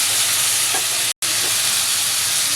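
Chopped tomatoes fry in a pan with salt and turmeric, a loud, steady, hissing sizzle that cuts out for a moment before continuing unchanged.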